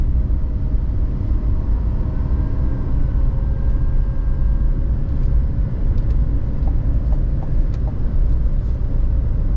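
A 2024 GMC Sierra 2500 Denali Ultimate 4x4 heavy-duty pickup, trailering, downshifts on a downhill mountain grade, heard as a steady, loud low engine rumble with road noise throughout and no clear gear-change step.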